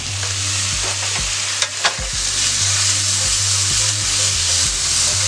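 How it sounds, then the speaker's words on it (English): Minced garlic sautéing with onions and bell pepper in a skillet for a country breakfast casserole, a steady close sizzle broken by a few scraping stirs and utensil knocks, with no talking. "So I'm going to add a heaping teaspoon of minced garlic into that."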